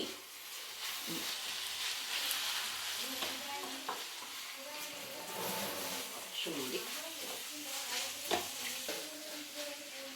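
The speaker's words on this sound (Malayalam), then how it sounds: "ഞാനിത് ഇളക്കുകയാണ്, വഴറ്റാണ്" Egg roast masala being stirred and sautéed in a frying pan, a steady sizzle with scraping spoon strokes throughout, fairly close, under faint background voices.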